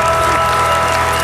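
A steady wash of studio audience applause on a German talk show fills the short moment, dense and continuous without other sounds.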